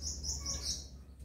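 A caged songbird in a tiered aviary cage chirping several quick, high tweets in a row, faint and close-by over a low background hum.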